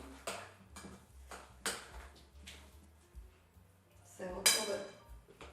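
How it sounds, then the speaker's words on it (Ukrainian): Ham and eggs for a potato casserole are mixed in a bowl with a utensil, giving a series of distinct clinks and scrapes about a second apart, the loudest near the end, close and fairly quiet. "Знову все гарно перемішую."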